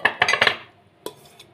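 Beating cauliflower batter ingredients with garlic cloves in a bowl: a quick burst of close metallic clinks and taps of a utensil against the bowl, then a pause and a couple of lighter knocks.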